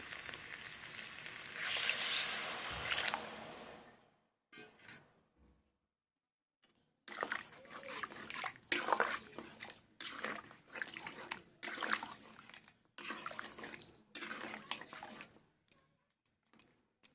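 Cold water poured into a pan of cooking mutton gives a loud rushing hiss for a few seconds. After a pause, bursts of sizzling bubbling come and go in an uneven rhythm.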